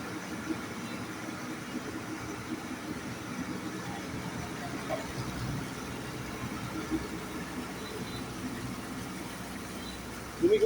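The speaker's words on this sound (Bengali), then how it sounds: "পাম্পের জেনারেটর" A water pump's generator runs steadily nearby, a continuous low engine drone with faint rattling, ending in a short louder thump.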